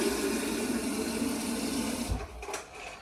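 Water runs steadily from a tap, a continuous close hiss and splash that cuts off near the end, followed by faint handling noises.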